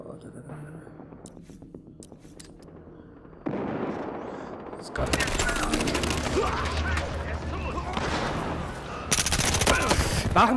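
Battlefield Hardline Blood Money firefight on the Der Block map, with bursts of gunshots that grow from scattered cracks into loud, sustained automatic fire and heavy rumbling blasts.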